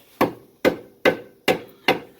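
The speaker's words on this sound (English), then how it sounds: "use a rubber or plastic hammer, try to knock that rear part into place" Rubber or plastic hammer knocking the rear of a front control arm into place on a 2002-2006 Honda CR-V, five evenly spaced sharp knocks, close and alone.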